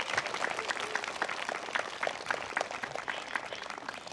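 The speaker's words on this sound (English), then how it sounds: "A round of applause for Miss Olivia." Audience applause for Miss Olivia at a school flag salute gathering, a steady, moderately faint patter of many hands clapping throughout, with a murmur of crowd noise underneath.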